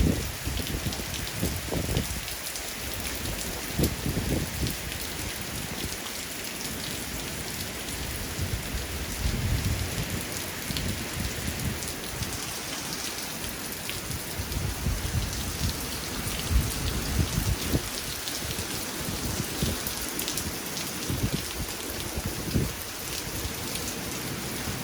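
Hurricane Delta landfall in Louisiana: heavy rain pours steadily alongside gusting wind for the whole stretch, a dense, loud, continuous roar with no voices.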